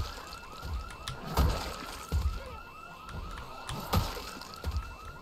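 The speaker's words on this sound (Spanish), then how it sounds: "En algún momento irá a parar esa alarma, ¿no?" Wailing alarm siren in the video game Project Zomboid, sweeping up and down repeatedly at moderate volume, with thuds and impacts mixed in.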